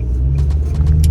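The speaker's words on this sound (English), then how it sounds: "there's a tow truck right there, which is being super annoying." A tow truck engine rumbles close by in a deep, steady, loud drone with a slight swell, alone for about a second.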